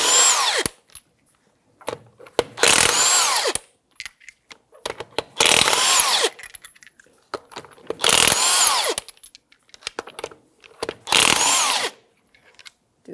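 Power tool, likely an impact wrench with a 21 mm socket, removing wheel lug nuts on a 2009-2014 Nissan Maxima; five loud, close bursts of about a second each, separated by quiet gaps with faint clicks.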